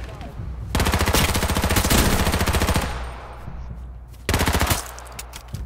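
Rapid automatic gunfire rattles in long loud bursts during an H1Z1 Battle Royale game, a sustained volley followed by a pause and then a second shorter burst, close and dominant.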